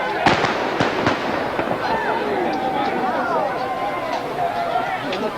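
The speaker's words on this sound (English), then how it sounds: "Those are blank charges the artillery is using, but you can feel a blast, even at this distance." Blank artillery charges fire at a Civil War reenactment, several sharp booms early on then scattered distant reports over a steady outdoor crowd murmur.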